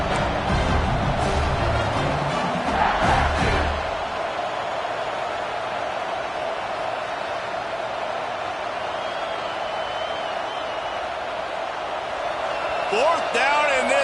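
A roaring stadium crowd in an American football video game fills the air on a fourth-down play, a steady loud wash of cheering that runs throughout, with a commentator talking over it.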